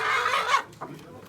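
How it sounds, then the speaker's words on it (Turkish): A rooster gives a short, loud crowing call up close at a poultry auction in Ankara, trailing off into a softer second note. "Horoz."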